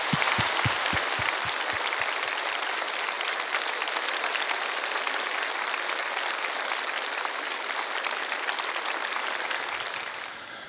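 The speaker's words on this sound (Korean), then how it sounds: "우리 귀한 강사님 나오실 때 우리 지구촌의 뜨거운 박수로 맞이하겠습니다" A church congregation at a revival service gives warm applause as a guest preacher comes forward, a steady, full wash of clapping lasting about ten seconds, with a few low thumps early on and a gentle fade at the end.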